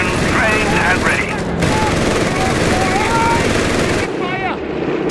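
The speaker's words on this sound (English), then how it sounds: "Vickers MG, ready into fire." Vickers machine gun in the video game Company of Heroes 3, heard as dense battlefield fire with steady bursts under a wash of combat noise, with shouted soldier voices in between.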